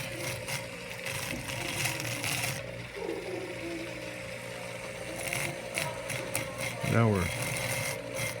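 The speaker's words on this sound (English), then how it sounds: "You can see how easy it's grinding now." A rusted Colt Single Action revolver relic is ground down to clean metal, giving a rough scraping and rasping texture in uneven strokes, close, with someone talking over it.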